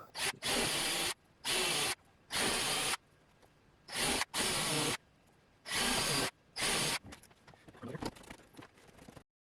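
A power drill whirs in seven short bursts separated by brief pauses, each burst loud and close, drilling pin holes while repairing a torn-out RC model plane landing gear, followed by quiet handling noises.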